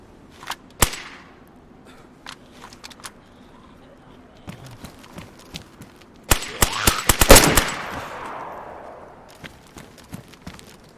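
Gunfire in a video game, meant to be suppressed but sounding unmuffled: scattered sharp single shots early on, then a dense burst of rapid fire midway that fades into a few more isolated cracks.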